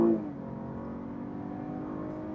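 A 2020 GMC Acadia AT4 SUV accelerating, heard from inside its well-damped cabin: a steady, low engine drone that holds even and subdued throughout, with no talking.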